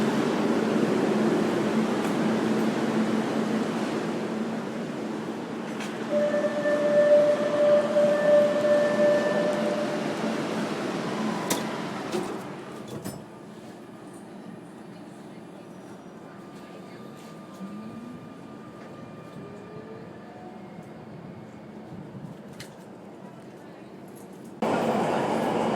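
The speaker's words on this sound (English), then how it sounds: "Okay, I'm on a subway." Steady rumble of a subway train in motion, with a brief high whine and rattling, ending in a sudden louder burst.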